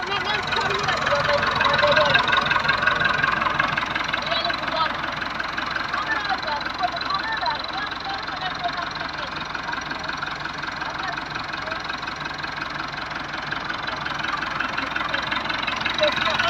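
Farm tractor engine idling and running steadily at close range throughout a tractor driving lesson, a continuous mid-low rumble with knocking texture, while a person speaks over it.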